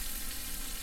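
Fish fillets fry in a pan for a surf and turf burger, giving a steady, even crackling sizzle, close and continuous for just under a second.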